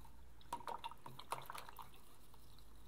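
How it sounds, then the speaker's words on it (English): A paintbrush is swished and tapped in a cup of water, giving a handful of small close-up splashes and drips in a quiet room. "we can wash our brush in our water"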